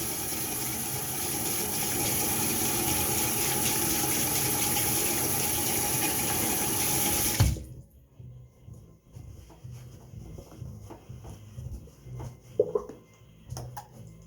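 Warm water runs steadily from a tap at close range for about seven seconds, then stops abruptly, leaving only faint room sounds and small movements.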